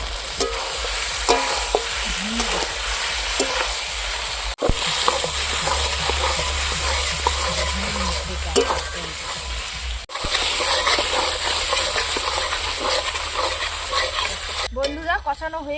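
Pork pieces stir and fry in a big pot at an outdoor village picnic cookout, a loud continuous sizzle broken by repeated scraping strokes of the spoon and occasional clanks against the metal rim.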